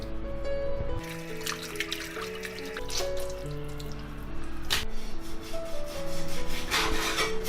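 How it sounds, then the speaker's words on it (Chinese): Pork belly skin, pan-seared until lightly charred, being scraped with a knife after rinsing, giving close rasping strokes that repeat under steady background music. "用刀给它刮一下"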